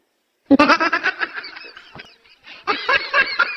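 A pet sheep lets out two loud, close, wavering bleats separated by a short pause, with no speech around them.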